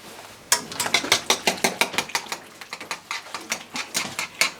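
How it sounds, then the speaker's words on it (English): A utensil stirs gluten-free, dairy-free gravy in a pan, making a quick, steady run of scraping clicks and taps against the pan, close and fairly loud, repeating rhythmically for several seconds with no talking. "I just get in there and stir it real good."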